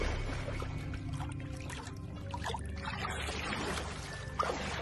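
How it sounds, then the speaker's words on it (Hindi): A thin stream of water trickling out of a freshly dug canal site, a soft uneven pouring and dribbling that stays fairly quiet and close throughout, with a small splash near the end. "नहर की खुदाई वाली जगह से पानी की हल्की धार निकल आई।"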